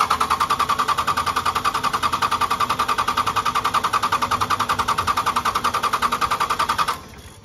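A 2nd gen Cummins diesel engine cranking on the starter, a steady fast rhythmic chugging that runs evenly for several seconds and then cuts off abruptly without catching.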